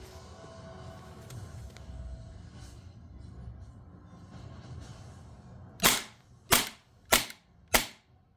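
An airsoft Hi-Capa pistol with a stock blowback unit and a speed piston head fires four sharp, loud cracks at an even pace, following several seconds of quiet room noise.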